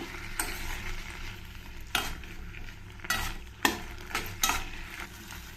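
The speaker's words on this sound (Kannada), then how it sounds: "ಸೊಪ್ಪು ಮೆಣಸಿನ್ಕಾಯಿ ಆ ಒಂದು ಬೆಳ್ಳುಳ್ಳಿ ಎಲ್ಲ ಸ್ವಲ್ಪ ಫ್ರೈ ಆಗಿದೆ" Basale greens with green chili and garlic fry in a pan, a soft continuous sizzle broken by several sharp stirring scrapes and clatters, close and without speech.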